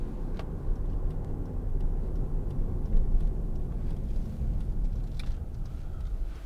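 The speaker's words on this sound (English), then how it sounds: "We're using the weight of the car and the body roll to go around corners." A 2013 Hyundai ix35 1.7 CRDi diesel SUV corners on a road test drive, a steady low engine and road rumble heard from inside the cabin with faint knocks, no talking.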